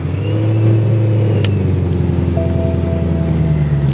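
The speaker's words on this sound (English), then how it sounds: "Fire up the M3." A BMW M3 engine runs steadily close by, a smooth sustained drone with a rising rev partway through, heard alone without talk.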